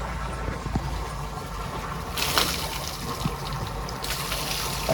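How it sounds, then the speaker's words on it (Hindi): Water pours steadily over a calf being bathed on a farm, a continuous splashing gush that swells louder in bursts, with no speech over it. "पहली दफ़ा पानी गिरा, ये भी अब आराम से खड़ा हो गया, नहा रहा है"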